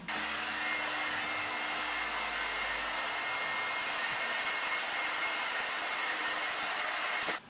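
A cheaper knockoff of a Revlon one-step hair dryer runs on its middle setting while drying short hair, producing a loud, steady, close rushing blow that holds evenly and cuts off abruptly at the end, with no talking.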